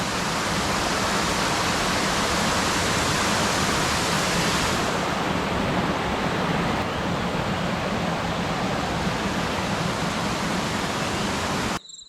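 Waterfalls pouring down the village hillsides in monsoon season, a steady loud broadband rush of falling water that continues unbroken for about twelve seconds with no voices.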